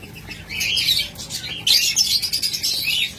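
Pet cockatiels and lovebirds, breeding pairs kept for eggs and chicks, squawk and chirp in repeated harsh bursts close by, with a brief pause before a louder stretch of overlapping calls.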